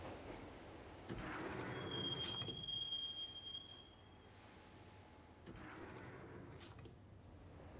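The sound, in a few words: train ride in the Max Payne video game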